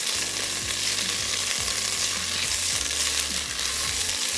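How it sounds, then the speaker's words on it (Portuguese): Spinach and a whole garlic clove sauté in a pan with a loud, steady sizzle, broken by the scrape and shuffle of stirring at intervals, with no talking. "dou uma leve mexida aqui, que é para começar a saltear o meu espinafre."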